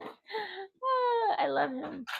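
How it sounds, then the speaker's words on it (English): A pet dog whimpers and yips in high, wavering whines near the microphone while a person speaks affectionately over and between the sounds. "I don't have kids. I have a dog."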